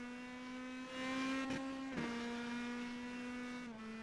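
An Indy Pro 2000 race car in iRacing circles the Red Bull Ring. Its engine holds a steady high whine that shifts pitch slightly with a couple of gear changes, sounding moderate and alone without talk.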